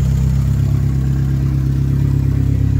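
A Fiat Tempra 2.0 8V turbo engine with a large intercooler and only a short exhaust pipe idles loudly up close, a steady pulsing drone with a faint high whistle above it and no talking.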